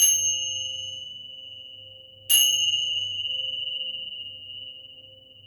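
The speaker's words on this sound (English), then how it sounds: "absorb the vibrations of the bells" Two bell strikes during a calm chair-yoga relaxation session: one at the start and another a couple of seconds later, each ringing out in a long, clear, slowly fading tone over a soft low hum.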